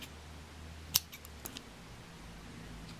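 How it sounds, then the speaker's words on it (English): Scissors trim black yarn from a sewn piece where the ear has just been attached, giving one crisp close snip followed by a couple of faint clicks over quiet room hiss. "I'm going to trim the black down"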